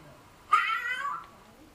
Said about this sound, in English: this kind of cat makes a mournful meow